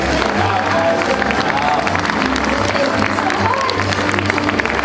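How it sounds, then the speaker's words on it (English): Audience applause and cheering at a special effects show at Universal Studios Hollywood, a steady, dense roar of clapping crowd noise sustained throughout at close, loud level with no pauses. "Give her a round of applause."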